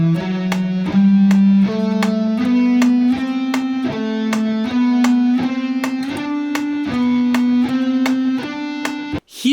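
A steady run of sustained, smoothly connected tones, like a guitar, plays quarter notes between even metronome clicks that tick regularly throughout, with a sharp cutoff at the end.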